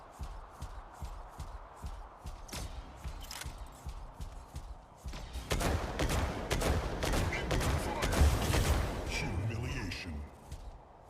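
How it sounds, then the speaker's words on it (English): Mech combat in the game Mech Arena, with a Paragon mech firing missiles and guns: a busy stream of rapid shots and blasts that grows denser and louder partway through, with a voice talking over it. "you have full control over the missiles you will fire, like how many bullets you want to shoot in which direction"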